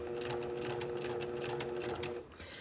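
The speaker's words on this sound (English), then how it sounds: "when I pivot and continue up the curved neckline, I am still sewing with my 1/4 inch seam" A sewing machine stitches a curved neckline seam at a quarter-inch allowance, running as a steady, close, rapid mechanical hum with a fast stitch rhythm before it slows and stops near the end.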